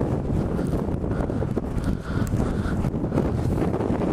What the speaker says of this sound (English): How strong is this wind?